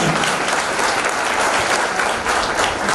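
Loud, close crowd applause at a political speech event in Nizamabad, a continuous thick roar of clapping that holds steady for the whole stretch without talk.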